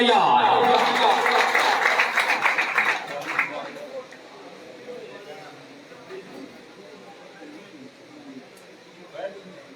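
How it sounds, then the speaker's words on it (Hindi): A crowd at a pigeon club tournament prize ceremony claps loudly at first, then the applause fades into scattered claps and voices talking in the background. "जोरदार तालियां"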